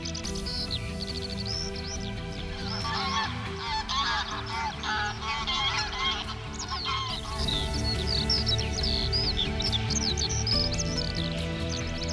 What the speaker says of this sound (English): a flock of geese landed on the surface of water, noisily arguing with one another